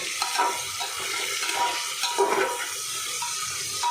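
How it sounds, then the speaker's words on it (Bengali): Chicken pieces fry with garlic and ginger in a pan, giving a moderate, uneven sizzle with occasional stirring clinks and wet bubbling, close and without speech. "এবার চিকেনটাকে ভালো করে রসুন আদার সাথে আমি ফ্রাই করে নেব।"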